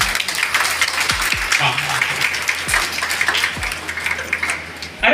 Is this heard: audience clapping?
yes